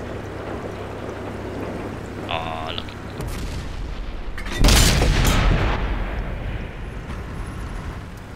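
A tank cannon fires in the Xbox game World of Tanks, a single loud booming blast with a rumbling tail over steady engine and battlefield noise.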